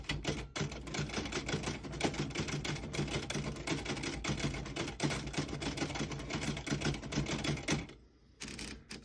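Steady, rapid keystrokes on a 1934 Underwood Noiseless typewriter clack in a continuous run, fairly soft, with a brief pause near the end before typing resumes.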